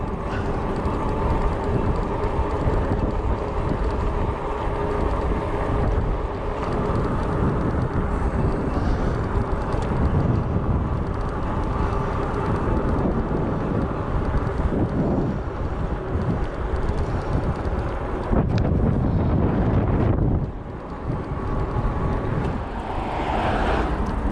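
Outdoor wind buffets the microphone in a loud, continuous roar that barely lets up, with a short lull near the end before the gusting returns.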